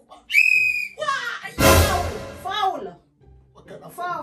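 A whistle is blown in one loud, shrill blast, then voices talk and exclaim around it, with a short burst of noise in between.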